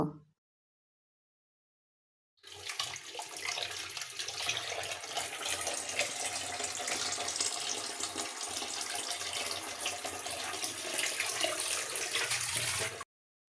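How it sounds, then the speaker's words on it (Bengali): Eggs are washed under a running kitchen tap: after a short silence the water gushes steadily and loudly, with small splashes and knocks as the eggs are handled, until it cuts off. "ডিমগুলো ধুয়ে রেখে বাসার অন্যান্য কাজগুলো করতে চলে যাব"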